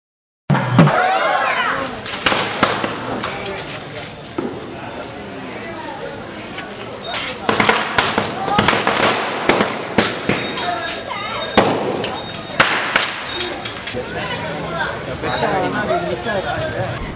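Fireworks burst over a temple lamp festival at Villianur Thirukameswarar temple, with repeated pops and thuds mixed into a dense crowd din of children and adults talking, and festival drums beating throughout.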